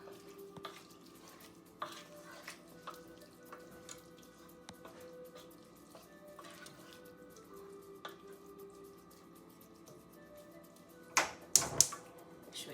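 Paella rice is stirred in a pan with quiet scraping and soft clicks at an irregular rhythm, ending in a few louder knocks against the pan.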